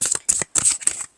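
Tarot cards riffled and drawn in four quick bursts of papery flutter, close and fairly loud, each burst separated by a short pause.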